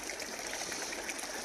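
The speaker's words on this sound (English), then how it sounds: "finally made it down to the creek" A creek flowing steadily, with a continuous close rush and babbling of water over rocks and no pauses.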